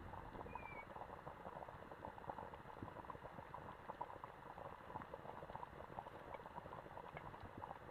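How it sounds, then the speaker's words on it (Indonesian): Water bubbles at a steady rolling boil, a continuous soft burbling and popping heard close up with no voices. "Sudah mendidih"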